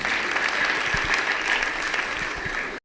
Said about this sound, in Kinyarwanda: Bongere bagushimire cyane n'amashyi menshi